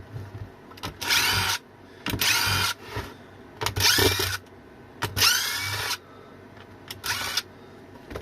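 Power screwdriver backing four Phillips head screws out of a vintage LPX e-bike battery case, heard as five or six close, loud whirring bursts of one to two seconds each, separated by short pauses.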